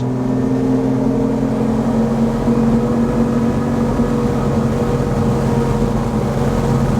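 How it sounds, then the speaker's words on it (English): An XO 260 DSCVR aluminium-hulled motorboat runs at full throttle with a steady, loud, continuous engine drone and water rush throughout, with no talk. "Let's put the throttle down. Oh my goodness, it's got a lot of punch."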